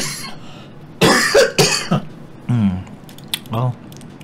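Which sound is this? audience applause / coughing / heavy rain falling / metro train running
coughing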